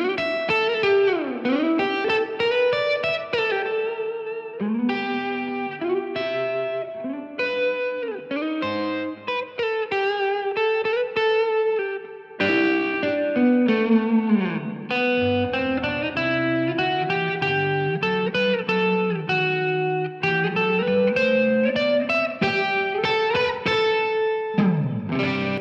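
A sustained, heavily processed instrumental line in a music mix, drenched in thick exaggerated reverb and a doubler effect layering, loud and continuous, with no talking.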